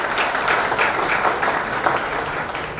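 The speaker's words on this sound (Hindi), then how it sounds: "जोरदार तालियां होनी चाहिए" A college audience gives the principal a dense, sustained round of applause, steady and fairly close, with no voices over it.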